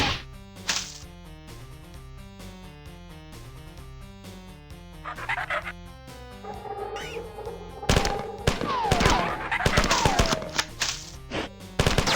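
Rapid gunfire with muzzle flashes rattles down a hallway in the video game Classic Marathon, with sharp repeated shots over a pulsing electronic music track and some warbling game effects.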